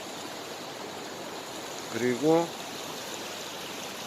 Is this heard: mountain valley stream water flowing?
yes